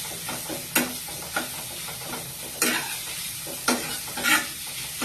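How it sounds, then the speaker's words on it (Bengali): Ginger-garlic spice paste sizzles and fries in a pan while a utensil scrapes and stirs it, with several sharp scraping strokes spaced irregularly over a steady close hiss. "তো মশলাটাকে ভালোভাবে একটু কষাতে হবে।"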